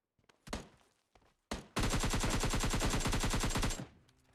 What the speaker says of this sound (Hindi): आगे से गोलियों चलने की आवाज़ आती है